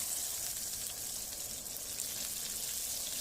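Okra pieces frying in groundnut oil in a pan give a steady, close hiss and crackle that stays even throughout, with no talking.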